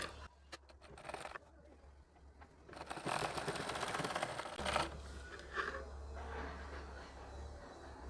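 Sewing machine stitching fine, small stitches along a saree border, bursts of rapid mechanical rattling that grow louder and steadier partway through, close and fairly quiet.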